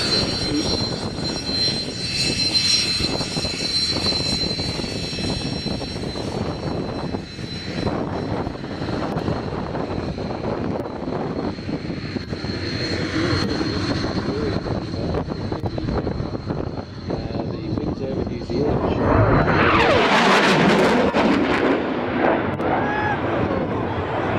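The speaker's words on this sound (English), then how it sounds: "This aircraft is our current leading fighter" Fighter jet at the Wings over Illawarra 2016 air show at Illawarra Regional Airport, a continuous loud engine roar that swells into a harsh, louder pass near the end, with faint commentary underneath.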